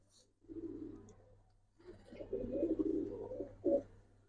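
Pigeons coo in low, soft bursts, one short call and then a longer rolling coo ending in a brief louder phrase, fairly close against a steady low background hum.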